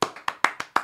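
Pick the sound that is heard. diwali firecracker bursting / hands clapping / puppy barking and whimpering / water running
hands clapping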